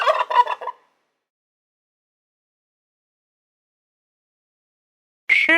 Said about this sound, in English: Look, that's a male turkey.